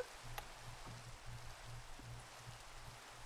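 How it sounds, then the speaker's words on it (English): Rain falls steadily as a soft, continuous hiss, faint and even, with a few occasional drop ticks and a low hum underneath. "No, I don't want the rain to end!"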